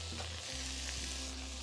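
Vegetables sizzle steadily in a hot oiled pan, a close, constant crackling hiss with a faint low hum underneath.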